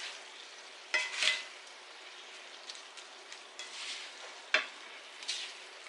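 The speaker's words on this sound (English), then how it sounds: "So I'm going to give it a stir." Bacon cured with apple wood sizzles softly in a covered pan while it is stirred, with a few sharp scraping clatters of the utensil over a steady fine crackle, close and fairly quiet.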